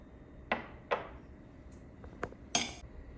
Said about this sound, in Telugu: వేయించుకొని ఈ చిన్న రోట్లో వేసి పొడి చేసుకోవాలి.